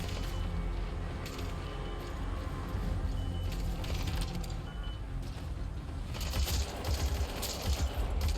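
Gunfire in Metal Gear Solid 5: dense bursts of shots and mechanical clatter rumble throughout, with a louder cluster of impacts near the end, over a thick game soundscape with no talk.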